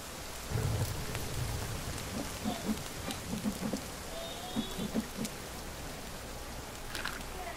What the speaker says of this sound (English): This heavy rain's gonna fill it up quick.